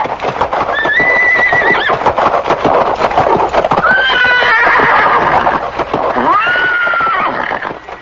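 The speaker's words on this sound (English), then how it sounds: "he terrified everyone present with his loud neighing" A horse neighs loudly several times in long, wavering whinnies, with rapid hoof clip-clops close by throughout.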